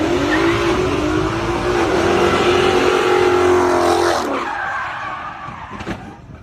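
A street racing car revs hard with tires squealing in a long skid, loud and close, its engine pitch climbing before cutting off abruptly, leaving fading rumble and a faint later squeal.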